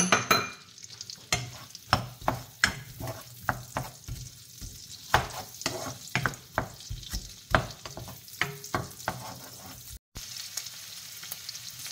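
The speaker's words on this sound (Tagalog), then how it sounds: "ilagay na natin yung ating garlic at saka yung ating onion. Caramelize lang natin yan." Garlic and onion fry in oil in a pan, a steady soft sizzle broken by repeated scraping and clacking strokes as the mixture is stirred, with no talking.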